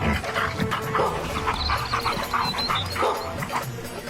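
A dog barks and yips repeatedly outside a shop, with short excited calls over a busy, noisy background.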